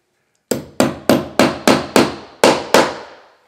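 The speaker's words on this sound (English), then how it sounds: "Take your hammer, give it a little tap, tap, tappy." Eight sharp hammer taps on pocket door hardware during mortise layout, struck in a quick even series with a short pause before the last two, close and loud with no talk.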